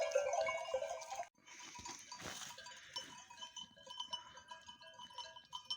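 Sheep bleat and call in a flock on a mountain, several animals overlapping continuously, with clanking and bustle of livestock nearby.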